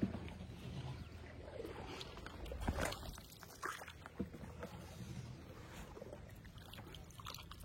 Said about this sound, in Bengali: কাকা সমানে নৌকা চালাচ্ছে